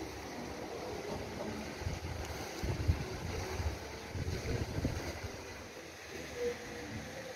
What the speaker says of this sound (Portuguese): Ó o vento, tem que dar pra vocês aí, ó.